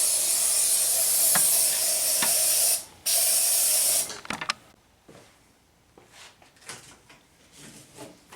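Lysol disinfectant is sprayed in two long, loud bursts of hissing aerosol with a short break between them, followed by quieter rustling and handling noises.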